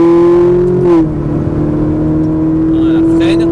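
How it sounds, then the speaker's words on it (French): Ferrari 458 Italia on a circuit at full throttle, its engine holding a strong steady whine that dips briefly around a shift before climbing again, loud and close, with an instructor speaking over it. "Allez, vas-y, réaccélère progressivement et la gaz à fond."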